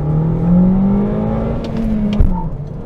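A car with a 2-liter inline-4 engine and 169 horsepower launches from a rev drop at about 2,500 RPM, its engine droning loudly and steadily climbing in pitch, then briefly dipping at a gear change.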